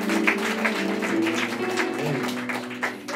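Audience applause at a Super Campus church gathering in Hyehwa, a dense sustained clapping from a crowd filling the room, with music humming underneath.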